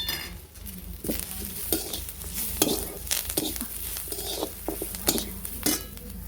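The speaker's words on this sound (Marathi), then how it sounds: "आता कांदा भाजत आला आहे त्याच्यामध्ये थोडंसं कढीपत्ता आपण त्याच कांद्यामध्ये अर्धा इंच आलं दहा ते बारा लसणाच्या पाकळ्या टाकून घेणार आहोत" Onion frying in a pan with curry leaves, half an inch of ginger and ten to twelve garlic cloves added, a steady close sizzle broken by repeated scraping and stirring clatters of a spoon against the pan.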